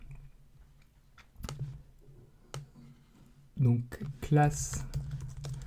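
Computer keyboard typing in bursts of clicky keystrokes, first sparse and soft, then quicker and louder, with someone speaking in between.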